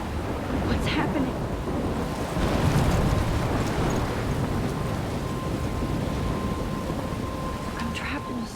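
Stormy weather in the video game Life is Strange: a steady, loud roar of wind and rain with crashing waves and rumbling thunder, continuous throughout with no talking.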